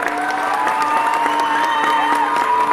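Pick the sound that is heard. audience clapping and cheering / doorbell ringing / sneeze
audience clapping and cheering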